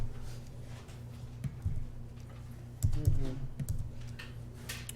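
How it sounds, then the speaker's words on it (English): Calculator keys pressed while entering a polynomial equation into the table feature, a scatter of soft close clicks and taps in uneven rhythm over a steady low hum. "if you type the equation into the table feature of your calculator"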